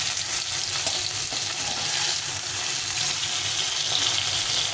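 Rohu fish pieces frying in oil in a pan, a steady bright sizzle with soft bubbling that holds even and close for the whole stretch, with no voices over it.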